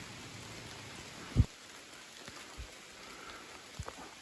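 Steady rain falls on a forest trail in the Allegheny National Forest, a soft continuous patter with a few louder drops and thumps close by, no talking.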